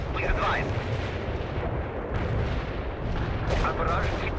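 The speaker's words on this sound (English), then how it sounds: "Our barrage hit the target." Artillery barrage striking a target in the World in Conflict video game, a dense rumbling roll of explosions with faint radio voices over the top.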